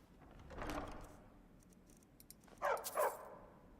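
A dog barks in the Skyrim video game, two or three sharp yelps close together near the end after a brief rustling swell, fairly quiet overall.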